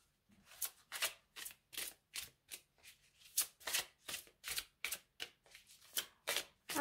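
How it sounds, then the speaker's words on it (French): Tarot cards are shuffled in a steady run of about twenty crisp riffling bursts at an even rhythm, close and fairly quiet, with no voice heard. "Je vais tirer 3 cartes."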